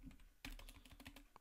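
Quick run of keystrokes on a computer keyboard as a web address is entered, close, soft and clicky, a short burst of light taps with one sharper press.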